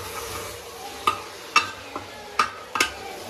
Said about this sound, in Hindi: आज मम्मी बना रही है आलू बैंगन की सब्जी